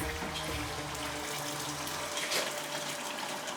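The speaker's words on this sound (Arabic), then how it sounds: "دوكا المرقولو نديرو له ماء سخون" Hot water pours steadily into a pot of fried meat and onions for a stew, a continuous gushing, splashing stream close by that runs unbroken for a few seconds with no talk over it.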